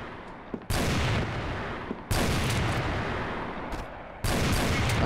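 Sniper rifle fire in the video game Crossfire, three loud sharp shots with echoing reverberant tails, evenly spaced.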